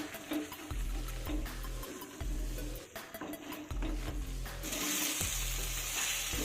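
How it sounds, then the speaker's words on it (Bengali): A spatula scrapes and stirs thick spinach paste with nuts in a wok in repeated strokes, with a low sizzle underneath, close and steady. "যেহেতু বাদাম দেওয়া আছে সেই জন্য অনবরত নাড়তে হবে নচেত কিন্তু নিচে লেগে যাওয়ার ভয় আছে"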